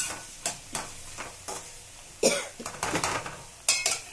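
Chicken with masala cooking in a pan, with a soft sizzle broken by repeated scraping stirs and clinks of a utensil against the pan, close and fairly quiet.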